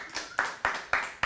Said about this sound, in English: let's get a big round of applause as they begin